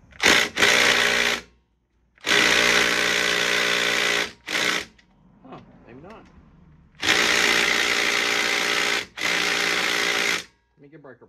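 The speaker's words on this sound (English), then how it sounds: "I'm gonna use an extension on my impact." An impact wrench on an extension hammers at 14 mm bolts on a VW Beetle swing-axle transaxle, firing in several loud, close bursts of rattling impacts separated by pauses, with brief clinks of tools between them.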